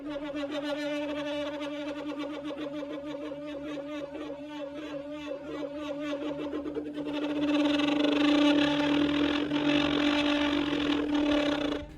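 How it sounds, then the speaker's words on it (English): Tenor saxophone flutter tongues morphed together and slowed by time stretching, producing a sustained buzzing, rattling reed tone that swells louder and brighter in its second half, with no voice. "It's 2 different types of flutter tongues morphed together using time"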